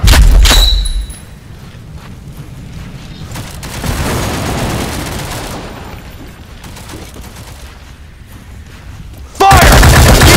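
Sustained suppressive gunfire in the WWH shooter game, with loud bursts at the start and end around long stretches of rolling, distant firing and rumble.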